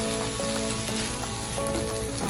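Onions and vegetables sizzle steadily in a hot pan for a pizza paratha filling, a dense, even crackling hiss that runs throughout at a close, moderate level.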